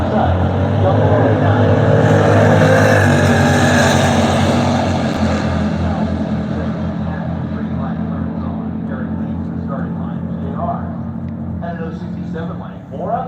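Engines of drag racing cars at the strip, a 1965 Pontiac Tempest with 494 cubic inches and a 1967 Firebird, roar loudly and then ease to a rumbling idle, heard under an announcer's commentary.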